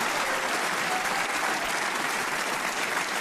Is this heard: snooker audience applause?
yes